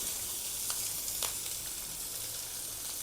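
Onions and green chillies fry in a pan with a steady, fairly quiet hiss of sizzling oil, broken by a couple of faint crackles and no voices.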